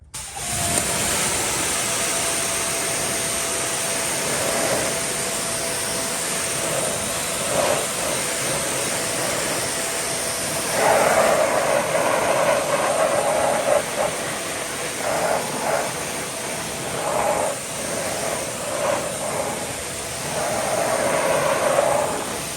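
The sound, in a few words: pressure washer rinsing a car with a 15-degree nozzle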